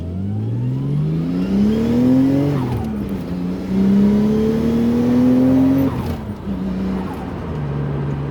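A Nissan R33 drives off after a gearbox oil change, its engine revving up through the gears with clear pitch drops at each shift, loud and close, with a faint tire squeal as it pulls away.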